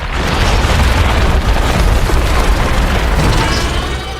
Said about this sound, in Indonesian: Lalu sang kapten menjatuhkan bom nuklir.